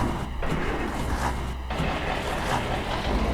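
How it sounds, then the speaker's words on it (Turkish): Cabin of a cement-loaded Ural mixer truck in Euro Truck Simulator 2 with the windows open, a steady low engine drone and road rumble with a couple of brief whooshes of passing air. "Şöyle camları açacağım arkadaşlar. Kamyonun sesini alalım."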